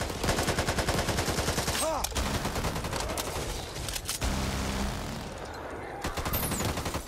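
Rapid automatic gunfire rattles in a Back 4 Blood match on PS5, tight repeated shots in bursts with a brief pause midway, then more firing, loud and close.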